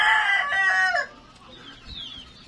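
A rooster gives one loud, close crow lasting about a second, then softer clucking follows in quieter surroundings.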